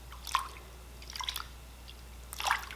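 Wet, freshly dyed non-superwash yarn is squeezed by hand, giving three soft squishes with drips of water spaced about a second apart, faint and close, with no voices.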